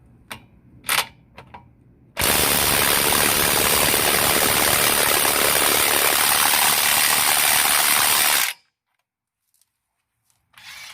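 A powered ratchet fitted with plastic sockets runs in one long, loud, continuous whirring and grinding burst of about six seconds, with faint clicks before it starts and near silence after it stops.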